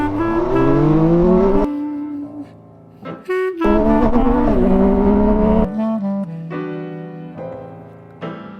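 An MV Agusta Turismo Veloce 800 Lusso motorcycle with a smart clutch accelerates hard, its engine rising in pitch through several gear changes, loud and close, then settling to a lower drone.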